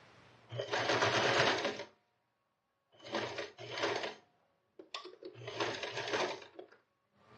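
Sewing machine running a seam on a towel, three bursts of fast, steady motor whirring separated by short silences, including a brief reverse stitch, close and clear with no speech.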